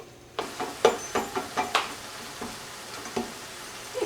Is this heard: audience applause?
no